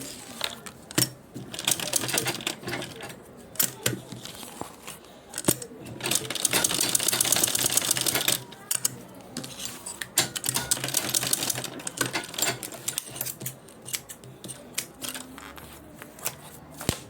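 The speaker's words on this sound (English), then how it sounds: "So I'm now going to top stitch like this" Sewing machine top stitching a shoulder bag, intermittent bursts of rapid mechanical clatter with starts and stops and handling noises between runs, close and moderately loud.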